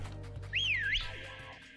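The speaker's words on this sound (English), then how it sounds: "I pressed the button to whistle at it." A player character whistles in Pokemon Sword and Shield, a single short rising-and-falling melodic whistle about half a second long, clear and alone over a low game background hum.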